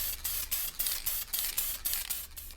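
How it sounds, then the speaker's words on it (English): Minwax polyurethane spray hisses onto a tumbler in a series of short bursts separated by brief pauses, close and fairly loud with no speech. "we're going to go ahead and spray this down"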